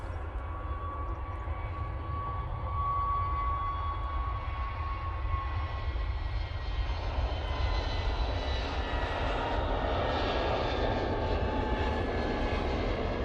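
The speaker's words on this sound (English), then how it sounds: "There's the orange of the EasyJet, now departing" EasyJet Airbus A320neo departing Manchester Airport, a steady loud roar of jet engines with a thin whine on top, rising and swelling as the jet climbs out, with no talking.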